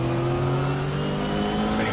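Porsche race car engine from the GTR2 game at Daytona, holding a steady high-revving drone down the back straight, strong tonal engine harmonics sustained throughout, loud and close with no talk.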